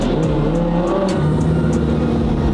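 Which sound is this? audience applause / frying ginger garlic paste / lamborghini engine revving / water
lamborghini engine revving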